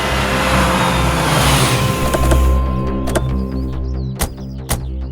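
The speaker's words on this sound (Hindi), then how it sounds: "आप गाड़ी को पीछे लेके जाइए।" A car reversing: a steady, fairly loud engine hum carries throughout, broken by scattered sharp clicks toward the end, with no voices.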